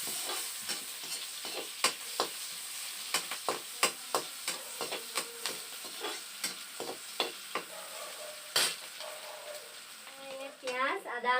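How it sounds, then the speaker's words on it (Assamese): Onions for an Assamese snakehead fish curry stirred in a pan: rhythmic spatula scrapes and knocks repeat every half second over a gentle sizzle, close and moderately loud, with some talk at the end. "পিঁয়াজ দি দিম"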